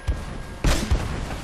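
Gunshots sound in the video game Uncharted: Drake's Fortune, three quick booming thumps within about a second, the middle one loudest, with no talking over them.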